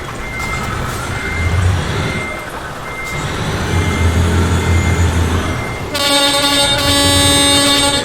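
A truck engine in Euro Truck Simulator 2 drones in a low, steady rumble, joined near the end by a loud, sustained tonal horn.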